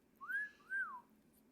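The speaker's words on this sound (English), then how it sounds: "I shouldn't have whistled." A person whistles a short two-note tune, each note sliding up and then falling, clear and close with no other sounds.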